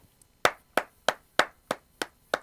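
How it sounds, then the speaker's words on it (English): Hands clapping seven times at a steady, even rhythm, each clap sharp and close, with no talking. "Clap, clap, clap, clap,"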